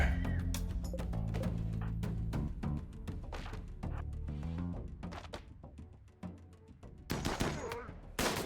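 Gunshots in RimWorld: rapid, repeated sharp cracks and bursts that are loud and dense throughout, with a fresh cluster of shots near the end over busy game sounds.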